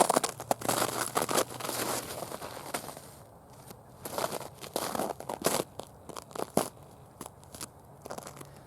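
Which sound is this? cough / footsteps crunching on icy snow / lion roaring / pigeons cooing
footsteps crunching on icy snow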